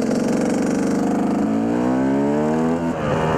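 A KTM 200 EXC two-stroke enduro motorcycle engine runs loud and close, rasping at a steady rev before the pitch climbs and wavers as the throttle is worked.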